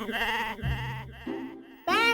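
Someone mimics a goat's bleat in a wavering, nasal voice, with a few drawn-out, quivering calls ending in a louder, rising bleat close to the mic.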